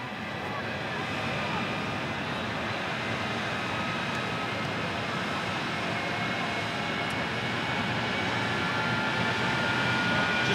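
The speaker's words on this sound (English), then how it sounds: "And you can hear it firing up." Jet engine of the Magdatude jet truck firing up at Rockford Speedway during a night thrill show, a steady roaring whine with tonal hiss that builds slightly over about ten seconds, heard from a distance.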